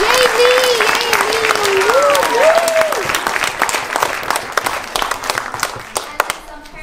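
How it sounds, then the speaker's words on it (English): Loud, close applause from a crowd at a school CreatAthon event, dense clapping that carries on with excited voices and a whoop over its first half, then thins into scattered claps. "So let's give a big round of applause to all of them"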